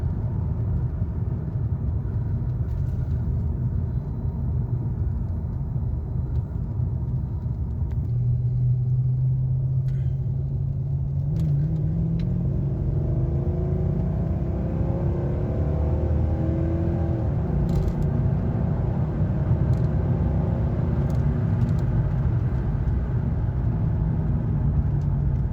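A cheap V8 Mercedes cruising along with transmission trouble gives a continuous low engine rumble and road noise. Partway through, the pitch rises smoothly as the car accelerates and then settles, close and loud, with no talking.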